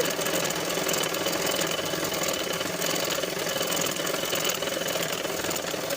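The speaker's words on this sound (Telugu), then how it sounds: "ఒక హాఫ్ ఇంచు ఖర్చుతో అయితే స్ట్రైట్గా స్టిచ్ చేసేయండి" An electric sewing machine runs steadily, stitching a straight seam on old saree cloth, its continuous mechanical whir filling the whole stretch evenly at close range with no talk.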